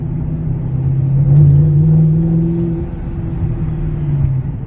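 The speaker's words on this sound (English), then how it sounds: "there's like a very harsh engagement of the supercharger clutch" A car's electronic supercharger clutch with a 76mm pulley engages harshly, a loud close rumbling whir that swells and then settles into a steady engine drone, with no talking.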